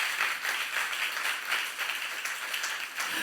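A church youth congregation claps during a sermon, a moderate, fairly even wash of clapping at some distance with faint rhythmic pulses.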